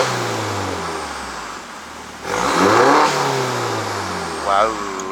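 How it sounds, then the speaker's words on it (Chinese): A Mini John Cooper Works F56 with a modified exhaust and its on-off valve open revs up loudly from a low idle rumble to a rising roar and then dips, with a second short blip near the end. "因为这辆车呢已经改过排气管了，这个排气管有 on-off valve"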